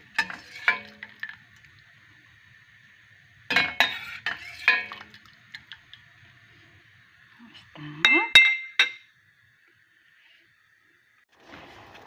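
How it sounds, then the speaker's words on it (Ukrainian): Cooked chicken and turkey offal tipped into a bowl, with bursts of clinking and scraping of a utensil against the dish, separated by quiet pauses, close by. "Я їх викидаю ось в мисочку."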